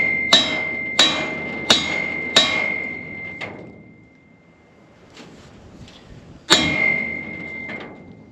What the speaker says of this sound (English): The hammer bent it down, the hammer can bend it up.